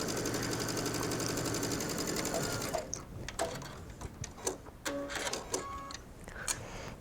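A sewing machine stitches a mesh sleeve with contrasting thread in a fast, even whir for nearly three seconds, then stops, followed by scattered clicks and fabric handling.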